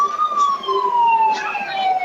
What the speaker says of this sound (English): Oh, another siren.